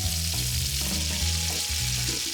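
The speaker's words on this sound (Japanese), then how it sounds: "レンコンのたらこサンドを焼きます。" Lotus root slices sandwiched with cod roe pan-frying in a wiped-clean frying pan, a steady close sizzle and crackle with soft stirring shifts, no voices.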